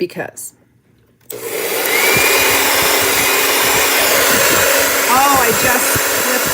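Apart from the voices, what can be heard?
powerful hair dryer drying a craft project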